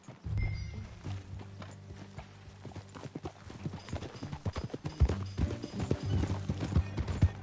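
Hooves clip-clop at a steady walking pace in the video game Red Dead Redemption, growing slightly louder, with a horse's whinny near the start and faint background ambience.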